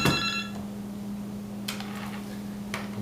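A phone call placed through a caller-ID spoofing service: a short electronic ring tone at the start, then faint line hiss with a couple of soft clicks and a low steady hum.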